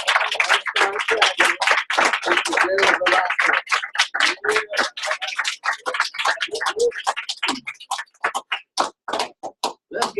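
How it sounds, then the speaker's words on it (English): Live audience at an Evolution Travel event in Orlando, Florida claps steadily and energetically throughout, dense at first and then thinning into sparser, distinct hand claps near the end. "Everybody to give me a warm round of applause."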